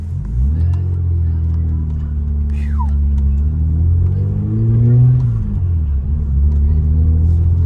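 A Mazda MX-3 with a small V6 engine revs, the low engine note climbing and falling in a smooth rise and drop, heard from inside the car with a loud steady rumble underneath.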